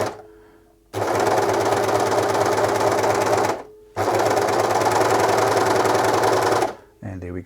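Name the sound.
serger overlocker sewing machine chaining out thread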